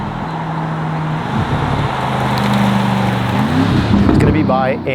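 An Aston Martin DBX SUV accelerates hard, its engine note rising steadily and loudly through the gears from inside the cabin, while someone talks over it.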